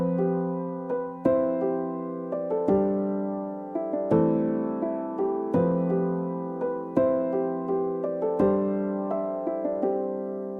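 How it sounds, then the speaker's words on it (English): A lo-fi piano melody built in FL Studio plays gentle, mellow notes and chords, each struck softly and left to decay, in a slow, even rhythm with no other sounds. "So now we've got this really nice, intricate piano melody that is starting to build some character in the track"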